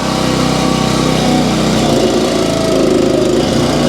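A Split Force 9 towable vertical log splitter runs its small engine at a steady, loud, high-pitched drone while splitting wood, with no talk.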